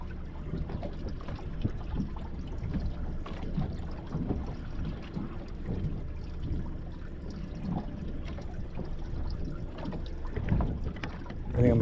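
The outboard motor of a small 17-foot fishing boat trolling about 15 miles east of Ponce Inlet, Florida, hums as a low, steady rumble, with wind buffeting the microphone and water sloshing.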